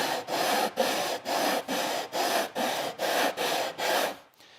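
A hand rasp makes long passes over the end of a wooden board, cleaning up jigsaw blade marks: about nine even, rhythmic scraping strokes, close and crisp, each separated by a brief pause.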